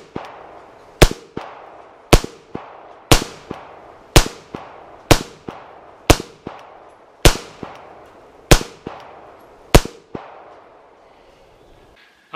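Beretta 92 pistol shots fired downrange at a range, about ten loud sharp cracks spaced roughly a second apart, each followed by a short echoing decay, with no talking.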